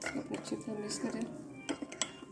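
A spoon quickly whips coffee and milk in a cup for a cafe-style cappuccino, making quiet, rapid clinks and scrapes against the cup.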